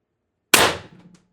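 A Mercury Rise IntruBuster HPA gun fires a single 9.9 gram Riot ball, a sharp, loud crack with a quick decaying tail and a faint rattle after it, otherwise silent.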